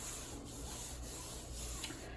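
A craft surface being rubbed smooth by hand, heard as a quiet, continuous close rubbing with no talk, ahead of sealing it with Mod Podge.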